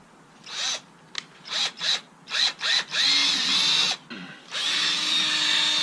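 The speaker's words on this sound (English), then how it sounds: "I'm going to drill some holes" A power drill whirs in a series of short bursts while drilling holes in a car for a license plate bracket, then runs in two longer sustained stretches, close and fairly loud with brief pauses between.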